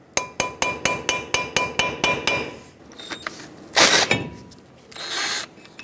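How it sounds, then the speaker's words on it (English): A hammer taps a rusty brake rotor on the front hub of a 2007-2014 Chevrolet Silverado 2500 HD, with about ten sharp, evenly spaced metallic strikes followed by a clunk and a scraping rattle as the rotor loosens. "if it is, tap it with a hammer and that should help it break free"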